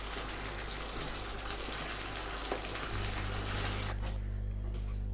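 Deep-fried cabbage balls are tossed into Manchurian sauce in a pan, giving a steady, close hiss of sizzling and bubbling that settles into a deeper, smoother sizzle partway through.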